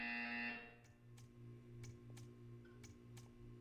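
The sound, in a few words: buzzer in video game Portal 2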